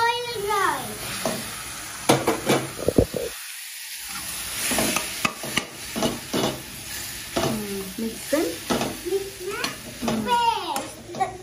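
A spoon stirs boiled rice with mint in a pan for pudina rice, giving scraping, sizzling strokes in an irregular rhythm, while someone talks intermittently over the cooking.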